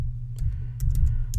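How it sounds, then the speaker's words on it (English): Someone types on a computer keyboard: sharp, irregular key clicks nearby over a steady low hum, with no talking. "So you're going to hear me typing"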